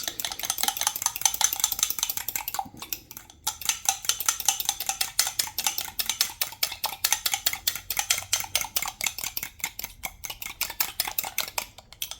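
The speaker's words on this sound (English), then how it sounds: "Whisk it enough hard where everything mixes up really good" Rapid, steady clinking of a whisk beating eggs with mayonnaise in a bowl, a dense run of close metallic taps with one brief pause partway through.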